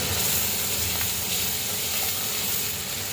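Garlic hits hot oil with frying magur catfish for a catfish and papaya dish, giving a steady, close sizzle and hiss that runs evenly throughout with no talking.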